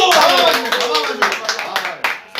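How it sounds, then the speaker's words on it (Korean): Hands clapping in a burst of applause from a small group, loud and close, fading toward the end. "박수!"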